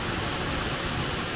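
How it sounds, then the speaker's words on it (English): A waterfall in Litchfield National Park, heard as a steady, even wash of rushing water with no breaks and nothing else over it. "Oh, what's that? It's a waterfall."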